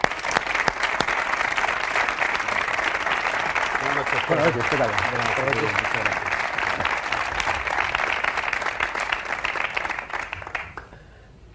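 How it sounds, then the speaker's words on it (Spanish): A television studio audience greets a politician with loud, dense applause that rolls on steadily before fading out, while a brief spoken greeting passes under it. "con un aplauso."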